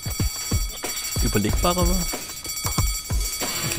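Alarm ringing in the point-and-click video game Deponia, a steady high-pitched electronic ring held throughout under repeated bursts of someone talking and game effects.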